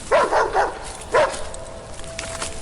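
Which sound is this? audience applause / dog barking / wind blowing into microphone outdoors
dog barking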